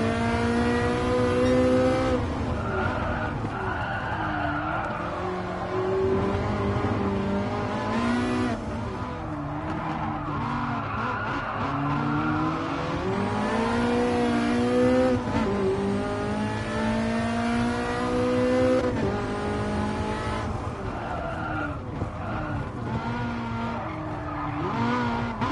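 Modern Ferrari race cars, including a LaFerrari, in Gran Turismo Sport scream through repeated hard accelerations with rising and falling engine notes, tires skidding and squealing between gear changes, loud and continuous throughout.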